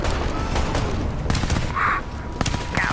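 Gunfire from a trailer for The Division video game, with dense bursts of sharp crisp shots and rattling automatic fire over a constant battle din and a few brief whistling tones, loud and close throughout.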